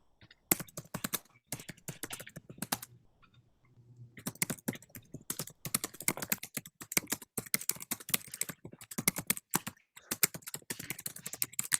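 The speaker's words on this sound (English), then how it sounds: "Who's typing? That's me." Computer keyboard typing during an online information session, rapid irregular bursts of close key clicks with short pauses in between, continuing steadily with no talk over it.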